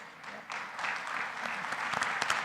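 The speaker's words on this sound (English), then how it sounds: "I ask the floor here or everyone here to give them a round of applause" A conference audience breaks into applause, a dense, even patter of many hands clapping together for a couple of seconds, filling the room at moderate volume.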